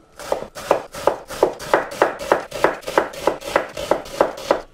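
Steady rhythmic knife chops through onions on a cutting board, about a dozen evenly spaced crisp strikes, close and clear with no talk.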